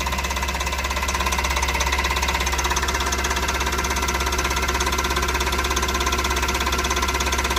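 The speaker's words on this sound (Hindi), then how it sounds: "इंजन की आवाज़ ओके आ" A Tata Ace Mega XL diesel engine, one with a low rail pressure fault, idles steadily up close, its rough knocking rhythm continuous and even throughout with no talk.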